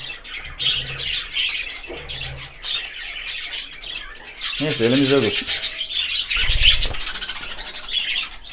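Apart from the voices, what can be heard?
budgerigar squawking and chirping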